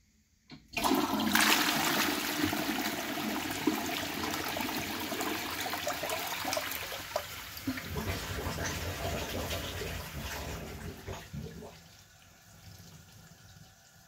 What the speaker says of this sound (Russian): Вот этот вот поток воды из туалета, он идет по трубам как поршень